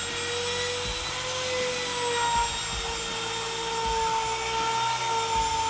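A high-pitched whining power tool trims formica laminate close by, holding a steady tone with slight pitch shifts as it cuts along the edge.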